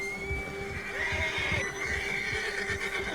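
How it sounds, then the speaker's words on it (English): A frightened horse in Red Dead Redemption 2 lets out a long, wavering whinny over a steady rumble of hooves on a trail, close and loud throughout. "Olha o cavalo com medo."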